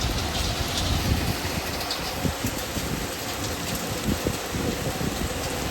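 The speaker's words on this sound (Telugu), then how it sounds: "ఏ ఏరియాలో చూసినా భారీ వర్షం" Steady heavy rain pours down in Kuwait in a dense, continuous hiss, with occasional louder splashes and a faint low rumble underneath.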